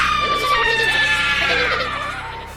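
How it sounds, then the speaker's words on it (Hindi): A group of airplane passengers scream in terror in a dramatized horror story, several high, overlapping shrieks and wails sustained loudly, then fading slightly at the end. "चुड़ैल को देखकर सभी यात्री चिल्लाने लगते हैं।"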